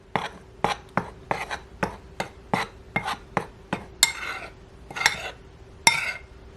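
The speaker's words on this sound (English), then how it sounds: "I'm going to add some baking powder to the flour. I want to add about 2/3 of a teaspoon of baking powder. And I want to mix that in" A utensil mixing baking powder into flour in a bowl knocks against the side about a dozen times in a quick, uneven rhythm, each strike sharp and close, with a few scraping sweeps near the end.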